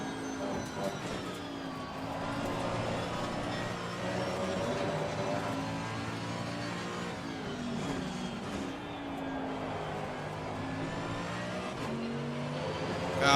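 Mercedes-AMG GT3 Evo race car engine in Assetto Corsa Competizione at Imola, a steady loud drone with rising and falling revs through gear changes, heard from onboard with no talk.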